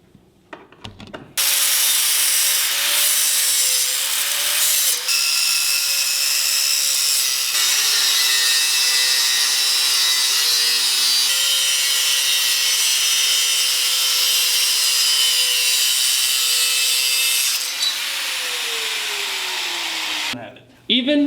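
A power tool cuts a metal plate off a front bumper bracket on an Acura Integra, starting abruptly and holding a loud, close, continuous grinding whine for nearly twenty seconds with small pitch dips as the load changes, then stopping.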